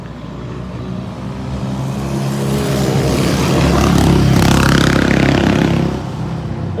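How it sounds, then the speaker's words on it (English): ATVs rumble past outdoors, a broad engine roar that swells to a peak around the middle and then fades as they move away, with no talking. "Oh, here they come with the ATV again."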